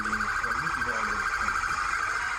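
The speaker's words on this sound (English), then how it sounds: "sirens can be heard nonstop" Emergency vehicle sirens wail steadily after a mass shooting in a park in Rochester, New York, a loud sustained tone with warbling lower sirens underneath and faint voices mixed in.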